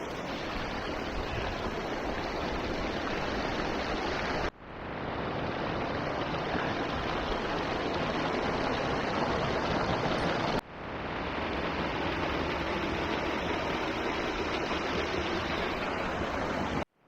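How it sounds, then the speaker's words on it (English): Waterfalls rushing down slopes of the Andes mountains near an alpine meadow, a steady broadband roar of falling water heard alone, cut by two brief breaks. "Waterfall to my left, waterfall to my right."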